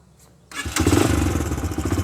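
A Yamaha YBR-G 125 motorcycle engine kicks into life partway through and settles into a steady, close, throbbing run.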